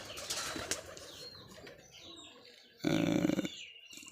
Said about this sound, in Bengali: আমি আপনাদেরকে দেখাচ্ছি এই যে কবুতরগুলো